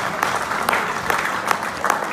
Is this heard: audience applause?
yes